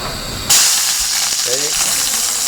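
Chilies drop into hot oil in a pan on a portable stove at a forest campsite, setting off a sudden loud hiss and steady sizzle that holds close and continuous after the first half second.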